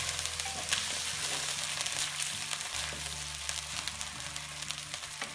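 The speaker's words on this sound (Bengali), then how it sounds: "এখন আমি রসুনের পেস্ট এবং সামান্য একটু পানি দিব মশলাটা কষানোর জন্য" Onion frying in a pan with garlic paste and a splash of water for a curry masala, a steady close sizzle with stirring scrapes and a faint low hum underneath, no talking.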